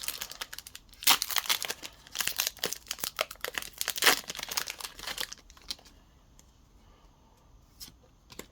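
Weiss Schwarz Blue Archive booster packs are torn open and handled, with crisp crinkling and ripping bursts of foil wrapper, busy and close at first, then dropping to quiet card shuffling.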